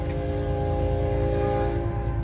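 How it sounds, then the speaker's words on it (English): A passing train in Holbrook, Arizona sounds its horn, a loud sustained multi-tone blast held steadily over the low rumble of the rolling train. "Oh, here comes a train."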